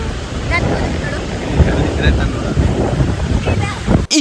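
Strong wind buffets a nearby microphone with a constant low rumble at the seaside in Gokarna at sunset, and there is a faint wash of water or surf behind it.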